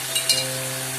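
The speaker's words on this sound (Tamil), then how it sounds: "ஒரு நிமிஷம் எண்ணெயில இந்த தக்காளி, நம்ம அரைச்ச மசாலா எல்லாம் சேர்த்து ஃப்ரை ஆகிற மாதிரி நம்ம கிளறி விட்டுக்கலாம்" Tomato and ground masala fry in hot oil while being stirred for a rasam, giving a steady close sizzle with a few light scrapes and clinks of the spoon against the pan.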